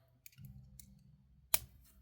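Cutters snipping jewelry wire off a finished bracelet, one crisp close snip after faint handling clicks.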